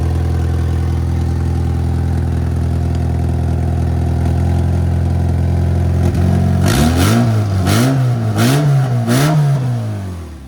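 A BMW E23 engine idles steadily, then revs up in several sharp bursts that rise and fall, loud and close, with no talk over it.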